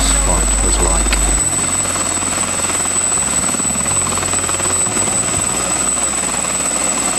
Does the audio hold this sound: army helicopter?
yes